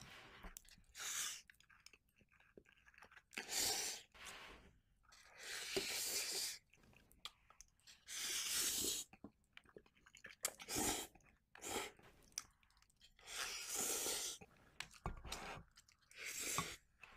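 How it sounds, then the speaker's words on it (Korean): Close, wet chewing and crunching of a Ukrainian-style instant ramen made with cheese and mayonnaise, in repeated bursts of biting and mastication with short pauses and occasional breaths, no talking. "과연 맛은 어떨지 제가 직접 먹어보겠습니다"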